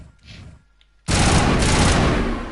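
Assault rifle firing in the Mass Effect video game: after a quiet moment, a loud sustained burst of rapid automatic gunfire kicks in abruptly and continues, close and dense.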